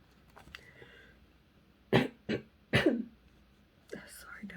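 A woman recovering from surgery coughs a few times in short, sharp bursts, close and fairly loud, with quiet breathy sounds and soft murmuring between the coughs.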